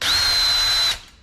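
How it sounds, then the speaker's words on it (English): A cordless power drill drives screws for an exterior door knob, giving a single high-pitched motor whine of just under a second that then winds down and stops. "so I'm going to grab my drill and run them in there a little quicker."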